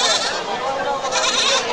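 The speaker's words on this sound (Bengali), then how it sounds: "দুইটা পাটি ছাগল।" Goat bleating at a rural livestock market where local goats are bought and sold, a loud, close, wavering cry running almost continuously, with market chatter faintly around it.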